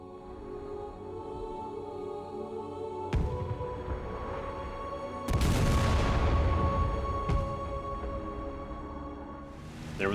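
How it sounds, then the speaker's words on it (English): A secondary explosion of an ammo cache in the Korean War flight game IL-2 Korea sounds as several heavy booms and rumbling blasts over a constant engine drone, one burst swelling loudest midway. "There was a secondary explosion, so it looks like we hit another ammo cache"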